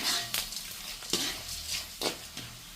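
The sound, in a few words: mustard seeds and lentils frying in hot oil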